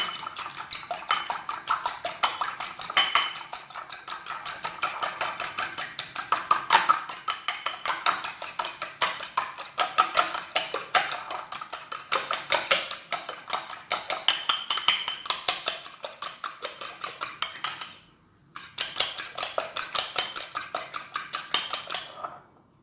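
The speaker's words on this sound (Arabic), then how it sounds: "وغادي نزيدوا عليه زيت الزيتون 5 ملاعق كبار هكا، وغادي نخلطوه." Olive oil being stirred into a homemade hair mask in a bowl, a rapid steady clatter of spoon against the bowl running continuously with one brief pause, close and fairly loud with no talking.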